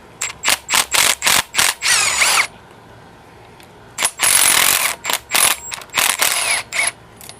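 Impact wrench rattling a bolt off a Honda H22 engine during teardown, in rapid bursts of ratcheting hammering, a longer burst mid-way, then a pause before several more close, loud bursts.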